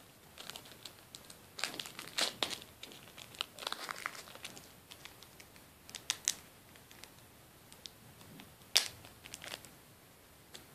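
A cellophane-wrapped package is opened by hand, giving quiet, close crinkling and crackling in scattered bursts with a few sharper tearing snaps. There is no talking over it.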